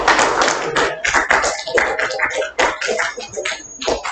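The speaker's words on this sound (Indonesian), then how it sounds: "tepuk tangan buat kelompok" Applause for a student group in a classroom, with uneven clapping and taps from a small crowd that rise and fall, mixed with voices talking over it.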